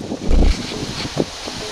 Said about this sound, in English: Okay, windy and cold.